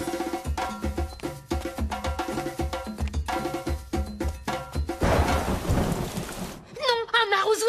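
Cartoon-style rain and thunder effect bursts in over a bouncy musical score, a loud broadband rumble and downpour taking over near the end before chirpy tones return.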